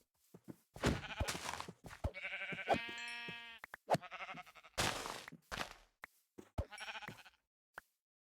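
Repeated Minecraft sheep bleats, some high and some low, in a series of short calls with brief gaps, mixed with small thuds and taps from the game.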